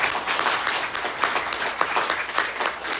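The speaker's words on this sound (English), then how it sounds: "One more round of applause for everyone." Audience applause at a new student reading event held at the Globe, a steady wash of many hands clapping throughout, moderately loud and fairly close, with no talk over it.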